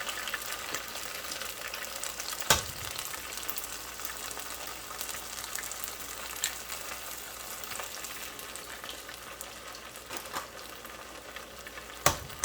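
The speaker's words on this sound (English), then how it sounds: "And then I'm going to crack these eggs in there." Eggs sizzle and fry in a hot stir-fry pan, a continuous broadband crackle and hiss with a few sharp clicks, fairly faint and steady throughout with no talking.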